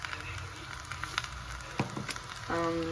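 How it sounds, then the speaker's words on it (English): Butternut squash sizzles in oil or butter in a pan as it is stirred, a steady close frying hiss with a few scraping stir clicks and a brief louder burst near the end. "make sure to stir it around. Get the butternut squash coated in the oil or butter"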